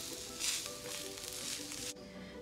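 A veg chila sizzles on a hot pan as its second side roasts, a steady close hiss that cuts off abruptly near the end.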